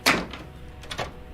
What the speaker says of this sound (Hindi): माही ने बिना कुछ सोचे ही जल्दी से दरवाजा खोला।